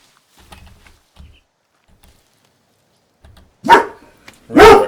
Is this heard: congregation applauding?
no